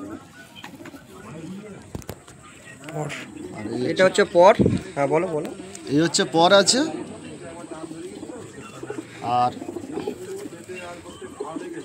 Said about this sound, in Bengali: এটা হচ্ছে বন্ধুরা মাদা পায়রা